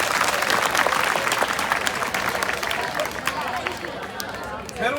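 An audience breaks into applause at a lively talk, loud dense clapping mixed with crowd hubbub that thins slightly toward the end.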